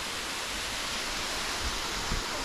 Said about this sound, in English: And we found the whole waterfall.